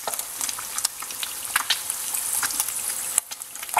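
Eggs fry in a pan with a steady, close crackling sizzle and scattered sharp pops and spits throughout, with no talking.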